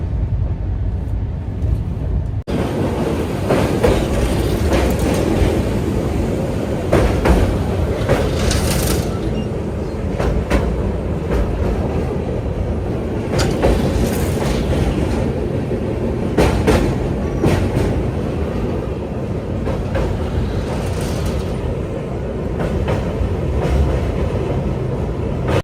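Telangana Express (12723) running at about 120–130 km/h between Hyderabad and New Delhi, heard from a first-class coach: a loud, continuous rushing roar with recurring rhythmic clacks of the wheels over the rails.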